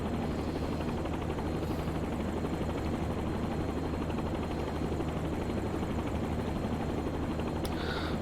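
A helicopter's engine and rotor drone in the X-Plane 10 flight simulator, a steady, even hum that holds unchanged throughout at low volume.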